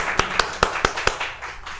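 Five evenly spaced hand claps, close and crisp, applauding tournament champion Atif Butt, then a quiet tail.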